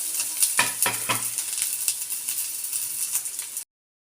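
Onion, curry leaves and green chilies sizzle in a hot pan, with a steady bright hiss and a few early scraping, rattling stir strokes, close and alone before an abrupt cutoff.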